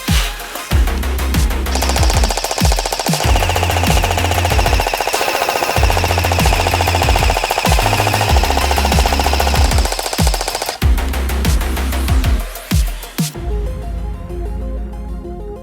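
An Elite Force H&K MG4 AEG airsoft light machine gun fires long, loud, rapid bursts with a buzzing mechanical rattle, broken by brief pauses between strings of automatic fire.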